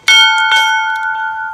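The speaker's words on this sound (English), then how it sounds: "That is a broken bell." A lopsided, broken bell is struck, giving a loud, bright metallic clang with a clear sustained ring and a few lighter follow-up taps as the tone slowly decays.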